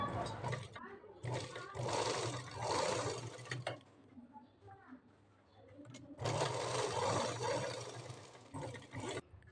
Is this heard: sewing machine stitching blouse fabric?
yes